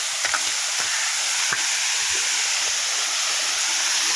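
Village waterfall in Mirzapur, India, with water pouring down from above: a steady, close rushing hiss of falling water fills the whole clip, with a few faint knocks and no speech.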